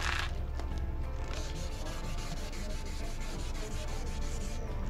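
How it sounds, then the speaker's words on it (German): Steady, continuous rubbing scrape of 2000-grit sandpaper wet sanding a Mercedes C 180 headlight with soapy water, working back and forth, close and even in loudness with no talking. "nehmen wir uns ein bisschen Spüliwasser, 2000er Schleifpapier und dann"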